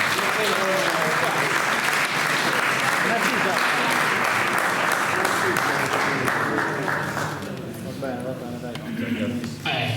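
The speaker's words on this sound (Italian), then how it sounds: "Fategli l'applauso a Giangavino." A crowd claps loudly and steadily at a Sardinian-language poetry competition in Ossi, then the applause thins out and fades, leaving a few scattered claps and some murmuring voices.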